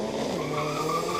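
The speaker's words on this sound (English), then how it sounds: "a very good launch from the Mitsubishi of Yusuf" Mitsubishi Evo launching off the line at a drag racing event, a loud, dense roar of engine and tire noise held steady for a moment.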